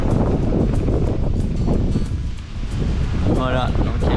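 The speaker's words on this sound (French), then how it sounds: "il y a beaucoup de vent" Strong wind buffets an outdoor camp where a pot sits on a camping stove, a loud, rough, continuous roar that dips briefly midway, with a voice speaking near the end.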